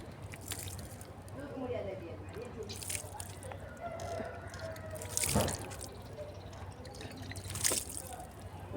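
Water trickling and dripping from a potted lotus plant's container as its water is drained and changed in a terrace garden, steady and fairly faint with a few louder splashes, under a person speaking.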